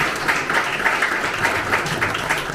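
Crowd applause welcoming a co-chair at a Korean presidential campaign committee's closing ceremony in Incheon, dense steady clapping from a large audience at moderate volume.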